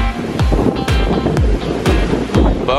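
Stormy sea waves crash in repeated surges while strong wind buffets the microphone on a windswept shore, loud and close, with no one talking.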